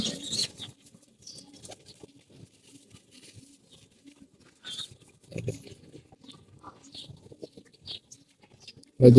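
Pigeons and young pigeon chicks, including silver and khaki-necked birds, shuffle and flutter in an enclosed pen, with soft scattered pecking, wing taps and faint coos coming in short bursts over near silence.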